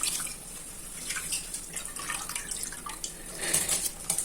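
Water coming to a boil in a pot before soaking rice is added, a steady watery bubbling with scattered drips and pops, fairly close and alone without voices.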